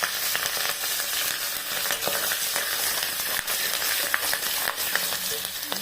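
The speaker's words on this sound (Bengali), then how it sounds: "আমি এবার এতে কি ফোড়ন দিচ্ছি দেখুন। একটু দারচিনি, জায়ফল, দারচিনি" Cinnamon, nutmeg and slit green chilli fry in hot oil after frying bhetki fish, producing a loud, dense, continuous crackling sizzle with bursts of popping close by.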